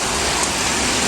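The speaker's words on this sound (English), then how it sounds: "that's a lot of rain to come out of that little cloud" Heavy rain pours down outdoors from a passing small cloud, a loud, dense, unbroken hiss throughout.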